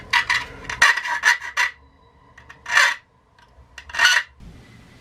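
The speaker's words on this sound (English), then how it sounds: "now I'm going to use a hand file to smoothen the edge" A hand file rasps along the cut edge of a modified GSG-16 magazine in loud, close bursts of scraping, a quick run of strokes followed by two separated longer passes, with no talk.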